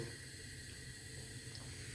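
A steady, even hiss of gas from a stove burner runs unbroken throughout, fairly quiet with a low rumble underneath.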